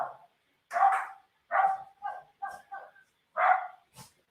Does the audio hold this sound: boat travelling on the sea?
no